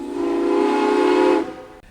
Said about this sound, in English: The engineer's warning device was the whistle